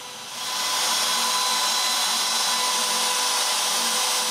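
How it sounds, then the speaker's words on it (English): A CNC router cuts a walnut inlay for a clock case, a loud steady high-pitched whine that ramps up in the first half second and then holds constant with no talking. "Then the inlay is cut with the CNC."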